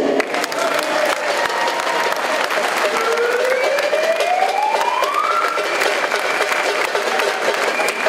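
An audience applauds at a gathering about a cross-border railway line, a dense, steady wash of clapping throughout, while a faint rising siren-like tone glides upward in the background partway through.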